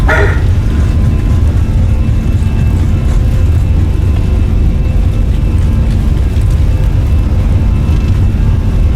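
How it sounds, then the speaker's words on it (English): Short yipping barks from a small pet dog named Odie come at the start, over the continuous low roar of A320 jet engines in a home flight simulator setup. "That was my little dog barking."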